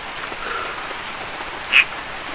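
Heavy rain pours steadily as an even, dense hiss throughout, with one sharp high chirp standing out briefly near the end.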